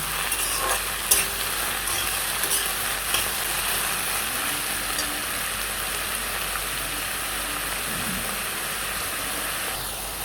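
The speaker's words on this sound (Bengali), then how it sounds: "শাপলাটাকে একটু ভালো করে ভাজা ভাজা করে নেব" Water lily stems fry with dried red chillies in a hot spiced-oil tempering in a pan, a steady close sizzle that runs throughout, with a few sharp clinks of stirring near the start.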